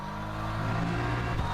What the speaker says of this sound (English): The AMSR sounds of a race car is my idea.